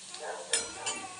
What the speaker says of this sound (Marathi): थोडंसं हलवून घेते.